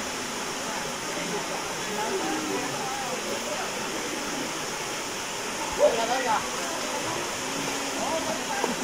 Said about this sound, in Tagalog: Yan yung ating pinakang falls,